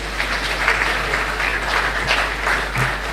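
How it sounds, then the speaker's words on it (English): Steady applause from an audience fills the room, a continuous patter of many hands clapping without letup. "Please, a round of applause."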